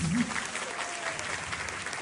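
An audience at a magic night event breaks into broad, sustained applause, a dense wash of clapping that carries on evenly, with a voice briefly audible at the start.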